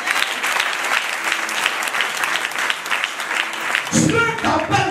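A church congregation bursts into sustained applause, dense clapping filling the room for several seconds before cheers and voices rise over it near the end.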